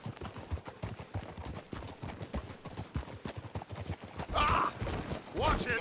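Hooves clip-clop steadily on a road in the Red Dead Redemption 2 game, a continuous trotting rhythm under talking voices, with a horse whinny near the end.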